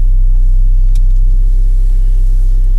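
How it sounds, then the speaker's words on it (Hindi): A Mahindra XUV300 engine idles steadily after starting on the first crank in cold weather, a loud, close, constant low hum with no talk over it. "आज एक सेल्फ में गाड़ी स्टार्ट हो गई।"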